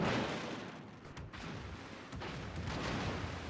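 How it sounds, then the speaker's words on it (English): Naval gunfire from an Iowa-class battleship loosing high explosive shells in World of Warships, heard as a few sharp booming reports over a steady broadband battle rumble. "the Iowa seems intent on firing high explosive"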